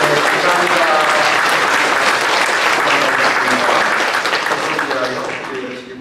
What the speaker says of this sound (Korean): 잘 가라고 박수 한번 할까요?